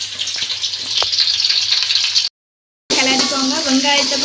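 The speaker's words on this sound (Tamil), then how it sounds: "வெங்காயம், தக்காளி, மிளகாய் போட்டு நல்லா கிளறிக்கோங்க." Onion, tomato and chili fry in a pan while being stirred, a steady close sizzle broken by a short silent gap, with a voice talking over part of it.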